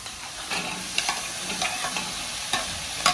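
Taro stems sauté in a pan with green chilies, giving a steady close sizzle punctuated by several quick spatula scrapes and stirs.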